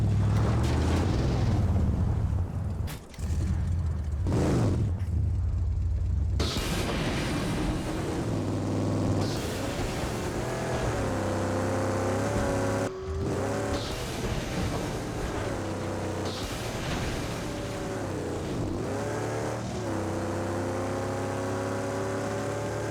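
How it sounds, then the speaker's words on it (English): Heavy vehicle engines roar and rev in the Mad Max video game, loud and close, with repeated rising and falling pitch sweeps as the throttle changes and a couple of brief abrupt breaks between bursts. "the vehicles he finds and steals throughout the wasteland sound like the petrol-guzzling, metal carapace behemoths that they are."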